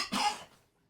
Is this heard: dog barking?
no